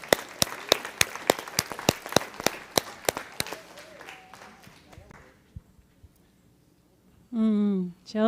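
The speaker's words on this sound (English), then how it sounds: "let's give her another round of applause" Scattered, loud individual claps ring out in a church sanctuary for a speaker, thinning out over a few seconds before a voice begins talking at the end.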